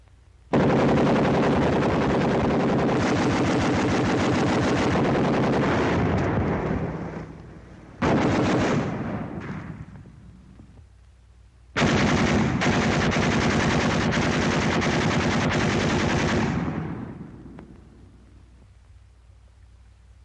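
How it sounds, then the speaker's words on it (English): A WW2-era .30 caliber machine gun fires three long sustained bursts at roughly 250 rounds a minute, loud and close, each burst rolling off into a fading echo between volleys. "He can mow them down like wheat at 250 rounds a minute."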